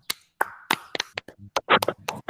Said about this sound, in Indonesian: Kasih aplaus dulu